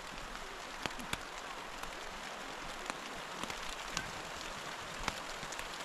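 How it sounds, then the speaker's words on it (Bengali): Steady midday rain falls outdoors, a dense, even hiss of drops hitting surfaces with occasional sharper close drips standing out, and no voices. "এখন বৃষ্টি হচ্ছে, দুপুর কিন্তু বৃষ্টি হচ্ছে"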